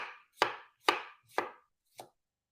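A kitchen knife chops potatoes for tortilla española on a cutting board, with four crisp, evenly spaced strokes close by and then a lighter fifth one, and no talking.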